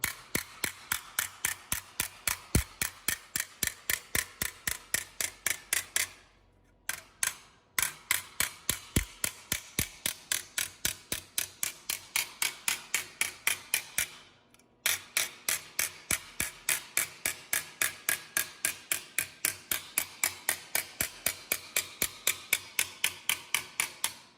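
Rapid, steady metallic tapping as a hammer shapes a curved metal flange held in a vise, dozens of sharp strikes in quick succession with two brief pauses, close and fairly loud.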